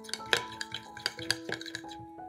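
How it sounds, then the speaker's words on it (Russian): A spoon clinking against a bowl as salad dressing with grainy mustard, black pepper and dried Italian herbs is stirred, a quick run of close metallic taps and scrapes with no talk. "Все перемешиваем."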